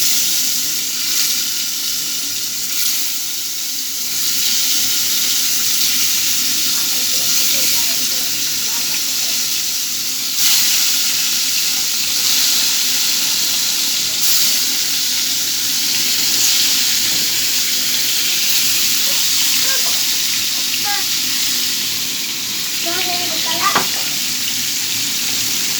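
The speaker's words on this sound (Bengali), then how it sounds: "এই যে আমার কড়াইটা গরম হয়ে গেছে, আমি মাছগুলো দিয়ে দিব" Fish frying in a hot wok gives a steady, even sizzle that holds for the whole stretch, moderately loud and close, with a few faint clinks and quiet voices underneath.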